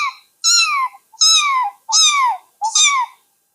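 A schoolgirl mimics a pet house kitten, voicing four clear, high meows in a row with short pauses between them.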